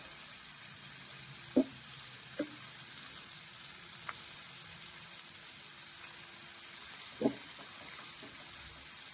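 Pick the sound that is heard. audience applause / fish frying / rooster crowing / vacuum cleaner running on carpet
fish frying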